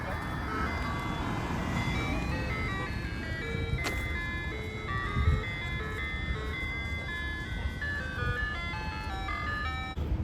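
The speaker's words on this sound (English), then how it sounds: "And it's an ice cream truck, and they're playing The Entertainer." An ice cream truck near the Philadelphia Museum of Art plays the tinkling melody of The Entertainer over street and traffic noise, with people talking nearby.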